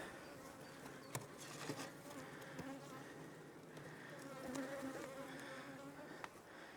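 Honey bees buzz on a frame of brood lifted from a hive while weak colonies are being evened out, giving a close, continuous hum with small clicks and knocks and no speech.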